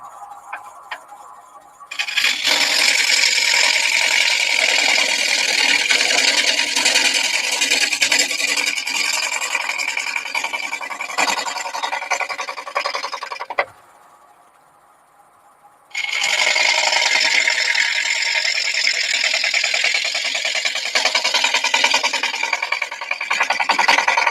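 Wet wood spinning on a lathe driven by a 3-horsepower motor rasps loudly and steadily as a tool cuts into it, one long bout of cutting, a brief pause, then another sustained scraping pass.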